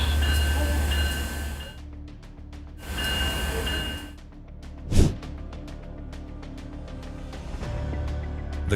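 An intermodal freight train rumbles past with rhythmic clattering and a broad roar that swells and fades, a sharp thump in the middle as it strikes a semi-truck at a road crossing, no talking.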